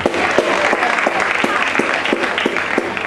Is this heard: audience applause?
yes